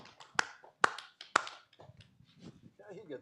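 Three sharp hand claps in quick succession, evenly spaced and loud, given by a chief umpire at a yacht club pre-race morning briefing, followed by the low murmur of a gathered crowd.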